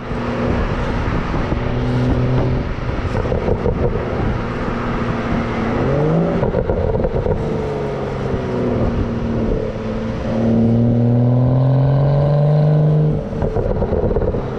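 Turbocharged engine of a 2011 BMW E90 335i, loud and steady, revving up and down with rising and falling tones and a strong sustained pull near the end.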